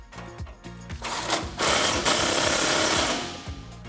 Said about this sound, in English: we can come in with our 18mm socket and tighten that down